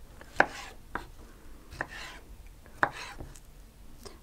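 A knife thuds on a cutting board cubing tomatoes in sparse, irregular chops, a handful of sharp taps close by with quiet scraping between.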